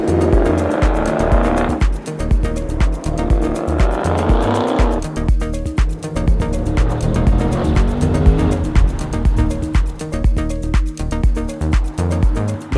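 A Ford Mustang RTR Spec 3 (S650) on a road test roars loudly and continuously, its engine note rising and falling through gear changes, with tyre noise and rushing wind.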